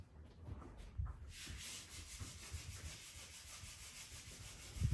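Filler being sanded by hand on a caravan interior, a steady scratchy rubbing that runs throughout at moderate level, with a few duller knocks and bumps mixed in.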